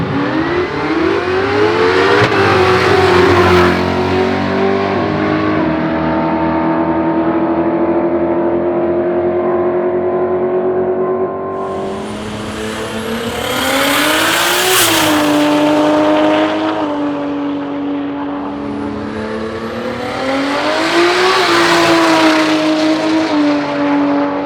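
Drag race car with an old single cam engine and stock crank, running loud and close, the engine note rising and falling through repeated revs with strong harmonic whine, alone without talk.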